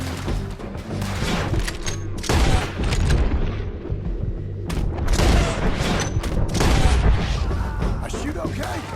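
Gunfire in Red Dead Redemption II, heavy booming shots and crashes overlapping in a loud, continuous firefight with voices mixed in under the blasts.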